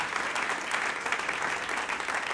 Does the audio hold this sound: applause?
yes